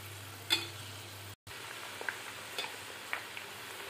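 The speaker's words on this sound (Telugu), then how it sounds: "ఇలా ఫ్రై అవుతున్నాయి." Thin-sliced potato chips deep frying in oil, a quiet steady sizzle with a few faint stirring clicks, close but soft, no talking.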